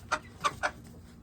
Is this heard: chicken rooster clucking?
yes